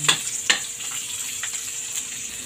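Garlic frying in a hot pan gives a soft, steady sizzle with a couple of sharp crackles near the start, close and moderately quiet, with no voices.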